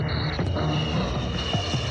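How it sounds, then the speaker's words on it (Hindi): Airplane flying sound effect played from a tape recorder during a game, a steady droning engine hum holding for the whole stretch with no voices over it. "हवाई जहाज ऐसे उड़ेगा,"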